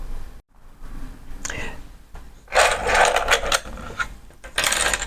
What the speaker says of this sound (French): on va coudre la ceinture à la jupe